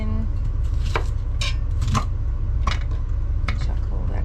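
A small cheap mixer chopper chopping an onion: a loud, steady motor drone with several sharp clattering bursts at irregular intervals as the pieces hit the blade, no voices.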